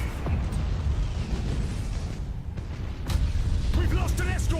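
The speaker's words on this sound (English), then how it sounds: "we're going to try and get an explosion off on this guy" Explosions and heavy weapons fire from a space battle in Battlefleet Gothic Armada, a dense, continuous rumbling roar with bursts and booms layered under in-game sound.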